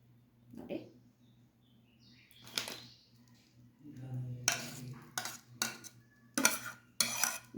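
Cooked multigrain oats spooned into a serving bowl, with soft scraping and a series of sharp metal spoon clinks against the dish, close and intermittent, with quiet pauses between.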